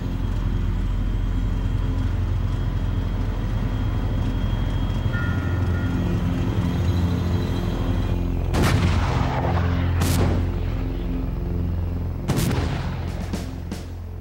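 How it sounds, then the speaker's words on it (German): A Panzer III tank's engine drones steadily, then several sharp, loud reports from its cannon and coaxial machine gun crack out in the second half, spaced a second or two apart. "werden heute mit scharfer Munition auf ruhende und bewegliche Ziele feuern, sowohl mit der Kanone als auch mit dem koaxialen Maschinengewehr"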